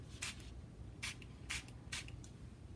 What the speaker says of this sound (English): probably sprayed too much of that